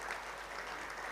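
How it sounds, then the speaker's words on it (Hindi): Audience applause for Raza at a tribute event for Azhar Hussain held by the Arts Council of Pakistan in Karachi: dense, steady clapping from a crowd, sustained and fairly loud throughout. "बहुत सारी तालियां रज़ा के लिए"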